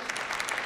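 Brief burst of applause from members of the German Bundestag during a parliamentary debate, a faint patter of clapping hands lasting under a second.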